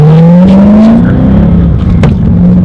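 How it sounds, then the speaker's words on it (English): A car fitted with a Turn Motorsport short shifter, set to its lowest setting, revs with a rising engine drone before one sharp mechanical snap from a notchy gear change near the end. "Like you hear that snap in a second, like that's how notchy it is."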